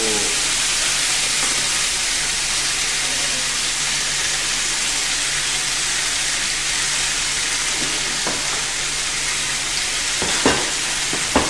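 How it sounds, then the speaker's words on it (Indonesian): Steady, dense sizzling of potatoes frying in a hot pan, loud and continuous, with a couple of faint clinks near the end. "bisa kedengaran kan sizzlingnya"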